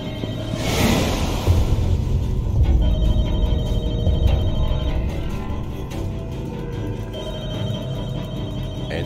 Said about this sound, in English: Answer the phone. Do it.